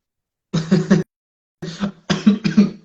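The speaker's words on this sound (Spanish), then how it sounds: "Perdón por la tos, está dando un poquito malo de garganta" Close, loud coughing in two bursts: a short fit, a brief silence, then a quicker run of several rough coughs.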